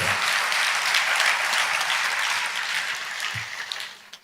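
A church congregation breaks into sustained applause, a dense wash of many hands clapping at once that holds steady before thinning out at the close.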